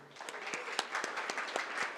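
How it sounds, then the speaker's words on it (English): An audience at a college ethnic and transborder studies lecture applauds a graduating student, a steady patter of distinct hand claps at moderate distance, fairly faint, with a voice faintly present. "Please, another hand of applause for Alma."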